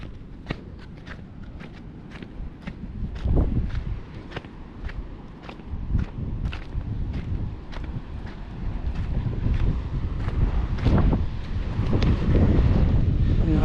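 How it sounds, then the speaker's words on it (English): Steady wind buffets the microphone on an exposed hilltop campsite above the ocean, a constant low roar that rises and swells toward the end, with gusts of varying strength and some faint knocks and ticks in the background. "A little bit windy, we're right on the top of the hill."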